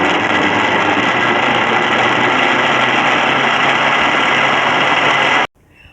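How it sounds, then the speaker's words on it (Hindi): A mixer grinder runs at full speed, blending guava juice with sugar, black salt and water. Its loud, steady motor roar holds for about five seconds, then cuts off abruptly. "और ग्राइंड कर लेती हूँ।"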